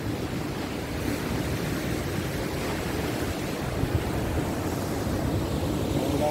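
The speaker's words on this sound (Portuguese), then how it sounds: "O mar tá bem agitado, pra vocês verem aí, ó." Rough sea waves crash and wash against the rocky coast of Ilhabela, making a loud, steady roar with wind buffeting the microphone throughout.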